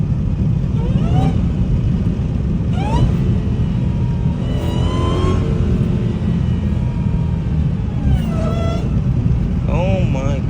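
Dodge Hellcat with a loud supercharger whine, rising in pitch in several short revving bursts over a steady rumble, with wind noise throughout.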